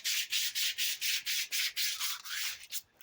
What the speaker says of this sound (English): Oh, geez, look at how easy it sands.